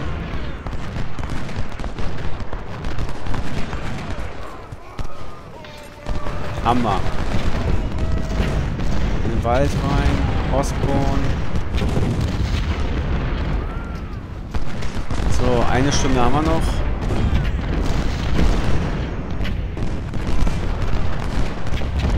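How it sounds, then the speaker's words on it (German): Cannon and artillery fire in Ultimate General: Civil War, during a Union battle at Harrisons Creek. Booms roll and repeat under a steady din of battle, while someone talks over the noise at intervals. "Kanonen laufen."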